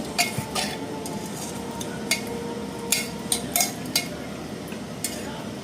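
Spoon scraping and clinking in a pan while bottle gourd curry is stirred and mixed, with soft sizzling underneath and several sharp metallic taps at irregular intervals.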